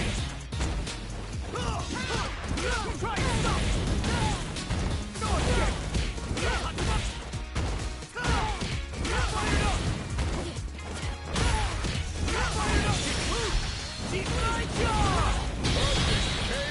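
Ken's combo in the Street Fighter 6 fighting game, a dense run of punchy hit impacts, whacks and crashes over game music, loud and rapid, with someone talking excitedly over it.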